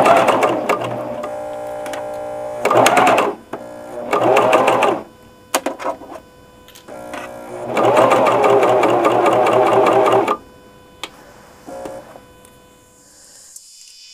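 A sewing machine runs in several bursts while stitching a T-shirt seam, the fabric guided along the edge of the presser foot. The motor whirs loudly for a few seconds at a time, with short pauses and clicks between runs.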